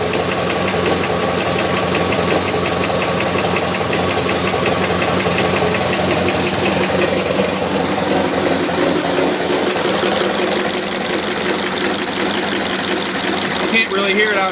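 A 1919 Ford Model T Speedster engine runs steadily with a rhythmic mechanical knock in its idle, heard close up and continuous throughout.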